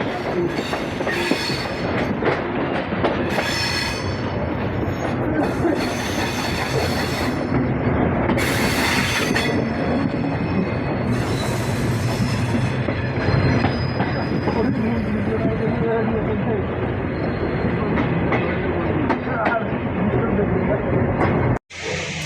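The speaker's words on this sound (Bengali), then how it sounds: "আমাদের ট্রেন প্রবেশ করতেছে নীলফামারী রেলওয়ে স্টেশন।" An express train rumbles steadily into Nilphamari railway station, Bangladesh, with rhythmic clickety-clack of wheels and several bursts of high metallic squealing as it rolls in.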